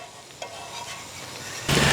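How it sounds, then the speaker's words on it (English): Onions, mushrooms and meat fry on a Blackstone griddle with a continuous sizzle and a brief scrape of stirring, and the hiss swells louder near the end with no voices. "We got our onions cooking up good."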